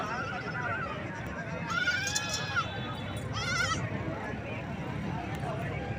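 Goats bleat twice in quick succession over a busy livestock market murmur, one longer wavering cry followed by a shorter one nearby.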